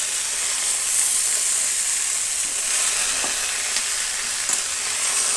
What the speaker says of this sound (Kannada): ಈಗ ಪಲ್ಯನ ಸೇರಿಸೋಣ. ಚೆನ್ನಾಗಿ ಕಲಿಸ್ಕೊಳ್ಳೋಣ.